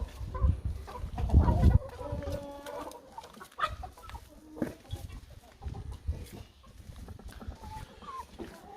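Chickens in a coop cluck and murmur continuously nearby, with a louder flurry of activity early on and softer scattered clucks throughout.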